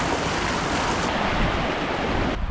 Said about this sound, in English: Right down below this big waterfall.